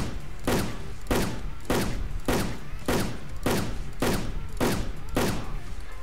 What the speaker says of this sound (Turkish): 10 vuruş attık şimdi. Legend Arslan, bak gördünüz arkadaşlar.